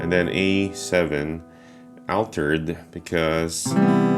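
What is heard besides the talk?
No distinct noise like a dog, phone or traffic.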